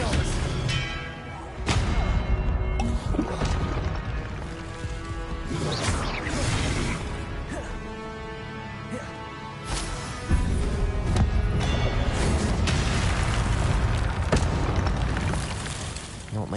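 Blasting spell explosions in the Hogwarts Legacy video game, booming crashes and thuds repeating over a dense, loud battle din, with voices calling out amid the fighting.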